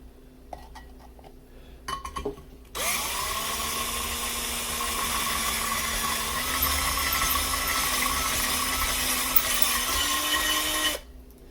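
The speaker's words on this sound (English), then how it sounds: "I still have to drill these out one more time." A power drill enlarges existing holes, whirring continuously for about eight seconds after a few short clicks and taps, its pitch rising slightly near the end before stopping.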